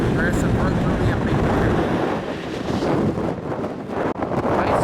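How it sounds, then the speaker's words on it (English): Steady wind buffets the microphone on a high, thin-air mountain trail in Rocky Mountain National Park, Colorado, a loud continuous rushing roar with gusty surges and no voices. "It's long, the air's thin, and it's windy."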